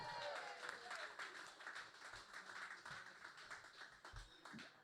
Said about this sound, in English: One more time for Mr. Lenny Clark, everybody